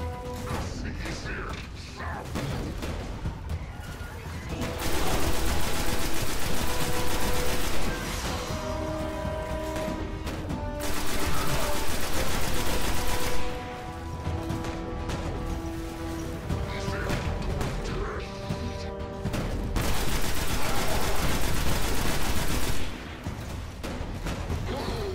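Gunfire and combat effects from the video game Destiny form a dense, continuous barrage with loud surging bursts over steady in-game music, with no one talking over it.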